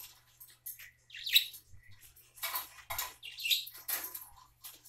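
A pet bird sings softly indoors, scattered high chirps and twittering bursts with small rustling sounds, close and faint.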